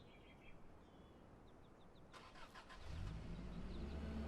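A car in Assassin's Creed Valhalla, with a few faint bird chirps and clicks before its engine starts and settles into a low, steady rumble close by.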